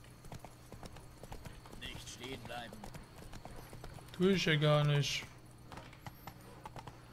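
Horse hooves clip-clop at a steady walking rhythm while riding in The Witcher 3, close and moderately loud, with a brief whinny and German speech over the top.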